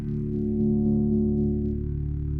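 A static synth bass tone from a ROLI Equator sound played with a key pressed at its centre, a steady, loud, harmonically rich low drone held unchanged throughout.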